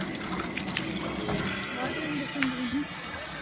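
Water rushes and gushes steadily at the Akasaganga waterfall near Tirupati, a constant loud flow, while a voice speaks faintly underneath.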